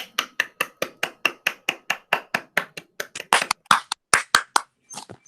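Steady, evenly spaced sharp claps sound close and alone, like a single person clapping at a school ceremony, speeding up and growing irregular near the end.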